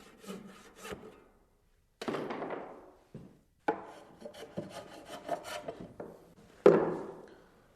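Hand plane taking shavings off a wooden stair nosing to fit a mortise, with several rasping strokes in uneven bursts separated by short pauses, close and moderately loud.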